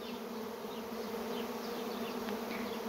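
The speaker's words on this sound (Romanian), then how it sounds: "astfel se adună roiul" A honeybee swarm gathers into its hive box with a dense, steady buzzing that stays close and unbroken throughout, and no voices.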